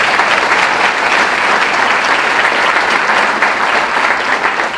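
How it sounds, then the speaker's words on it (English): A large audience gives a high school choir another round of applause at a city's State of the City address, a dense, loud, continuous wash of clapping with no talk. "let's give just the Yonkers High School Choir another round of applause"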